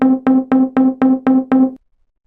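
A short, seamlessly looping video game background music phrase of seven evenly spaced, bright plucked notes on one steady pitch, playing alone and then stopping.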